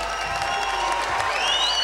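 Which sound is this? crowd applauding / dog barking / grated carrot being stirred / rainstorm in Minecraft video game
crowd applauding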